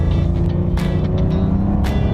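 A Porsche 911 Carrera T (992.2) driven hard through a curve, its engine droning loud and steady from inside the car, with brief tyre or shift noises cutting through.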